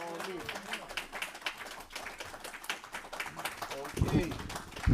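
Audience applause at a lecture on African world politics, a steady wash of clapping throughout that swells louder near the end, with speech mixed in.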